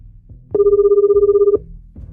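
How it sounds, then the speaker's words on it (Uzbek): A telephone rings once with a steady electronic tone lasting about a second, loud and close, over a quiet low background. "O'rmon rahbari sher qamoqxonaga qo'ng'iroq qilmoqda."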